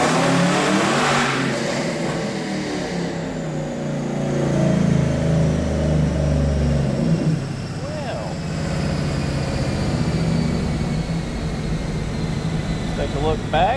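2013 Camaro ZL1 engine revving hard on a dyno during a tuning pull, a loud sustained roar that climbs in pitch and then drops back as the gear changes, heard close and under bits of talk.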